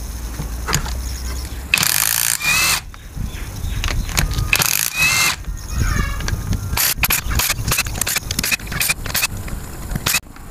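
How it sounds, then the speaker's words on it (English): Tools working on ring gear bolts of a Toyota Prado differential, with repeated metallic scrapes, clanks and ratcheting bursts, some loud and sustained, others short and clattering, close up. "Now we can remove the ring gear bolts."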